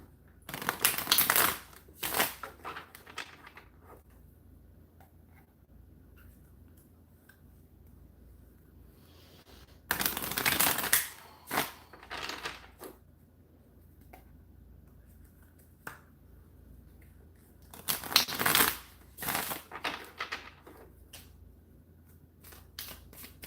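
Three separate bursts of Rider-Waite tarot cards being riffled and shuffled close by, each lasting a couple of seconds, with near silence between them.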